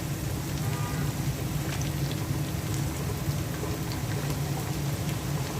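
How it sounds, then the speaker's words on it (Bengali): Ginger garlic paste sizzling in hot oil with fried onions, a dense, even hiss that holds steady throughout, fairly quiet and uninterrupted by speech. "এখন আদা রসুনের পেস্ট দিয়ে দিচ্ছি।"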